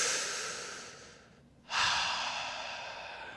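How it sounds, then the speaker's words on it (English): One deep breath drawn in and then released, near and soft, a slow airy inhale fading before a stronger exhale, with no voice over it. "So let's take a nice deep breath in."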